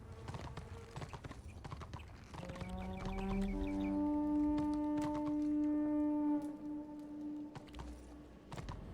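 Horse hooves clip-clop in the video game Warhammer Online: Age of Reckoning, a steady run of distinct hoof beats alongside sustained tonal game music and effects, with no speech.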